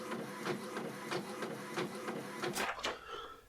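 A printer prints in the Sega Genesis game Shadowrun, a rhythmic mechanical whir of repeated carriage passes that runs steadily and ends with a couple of sharper strokes.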